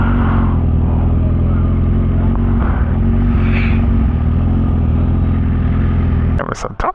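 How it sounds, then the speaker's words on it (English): Motorcycles at a car meet rumble and rev continuously and loudly close by, a dense steady engine drone with no pauses, while people talk over the noise. "There's a ton of bikes out here."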